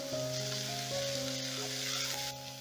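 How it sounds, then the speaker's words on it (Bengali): Chopped onions fry in a pan with a soft, quiet sizzle while being stirred, over a faint steady background hum. "পেঁয়াজটা একটু নাড়াচাড়া করে নিচ্ছি এক মিনিটের মতো নাড়াচাড়া করে নিচ্ছি বেশি ভাজবো না"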